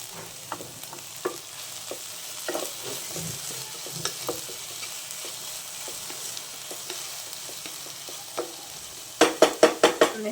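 Onions and tomato for prawn biryani sizzle softly in a pan while a spoon stirs with scattered scrapes and taps, ending in a quick run of sharp metallic knocks against the pot.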